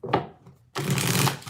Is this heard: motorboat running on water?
no